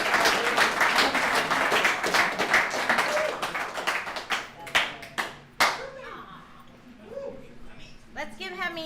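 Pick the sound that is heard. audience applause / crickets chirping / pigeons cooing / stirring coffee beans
audience applause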